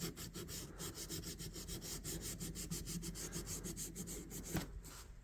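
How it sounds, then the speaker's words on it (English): Sandpaper of 600 grit rubbed over a rusty vintage colonial electrician's knife, giving a close, quiet, steady run of quick back-and-forth rasping strokes with no talking. "So let's just get started with a little bit of sandpaper here. This is like 600 grit, I think."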